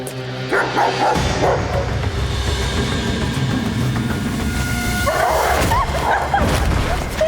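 A dog barks repeatedly and aggressively in an attack on a woman, with loud, close barks over a rough, noisy background, and a second burst of barking near the end.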